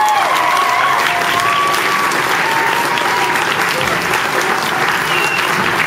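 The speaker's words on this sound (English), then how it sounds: "So a round of applause, very warm welcome." Loud, dense audience applause at a youth guitar festival concert, a steady wash of many hands clapping for the whole stretch, with a few cheers and voices mixed in.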